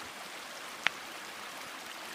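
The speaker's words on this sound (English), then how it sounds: "we made it up to the upper Cascades of the Falling Rock waterfall" Water flows steadily over the upper cascades of the Falling Rock waterfall, a continuous hissing rush heard nearby with one brief sharp click partway through.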